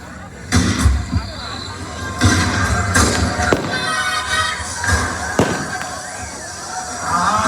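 Several sharp rifle-shot bangs ring out during a São João quadrilha play, spaced a second or two apart over a busy outdoor crowd and voices.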